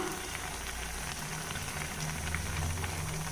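A pot of sambar bubbles at a steady, even boil, a dense close hiss of simmering liquid that carries on without pause.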